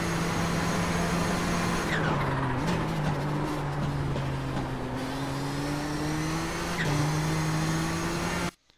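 A race car in the iRacing sim at Okayama International Circuit holds a steady, loud engine drone with pitch dips and rises through gear and speed changes, plus a faint tire squeal, continuous until an abrupt cut at the end.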